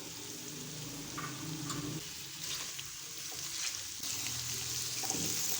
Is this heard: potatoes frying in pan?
yes